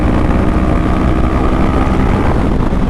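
Honda CBR500R 2020 motorcycle accelerating in fifth gear from about 83, a loud, steady engine and wind roar heard close from the rider's position.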